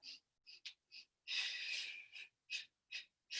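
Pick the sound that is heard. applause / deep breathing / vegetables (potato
deep breathing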